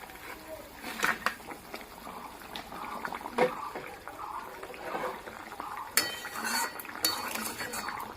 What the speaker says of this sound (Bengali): ঝোলটা ফুটে গেছে, আমি এখন মাছটা দিয়ে দেব।